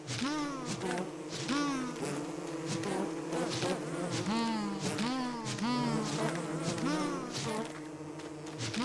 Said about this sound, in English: Maybe just out of clarity, I might clear out all these bees.